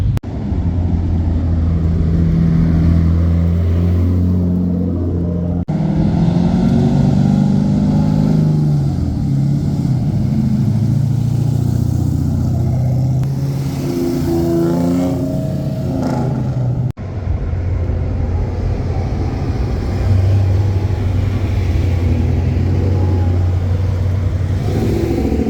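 Cars pull into a downtown Los Angeles import car show, engines idling and revving close by in low rumbling waves, with a few sharp cuts between passes and no talk.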